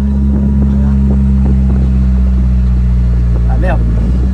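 Carver One tilting three-wheeled vehicle accelerating on a road, a loud steady engine drone with strong low hum throughout, while people talk over it.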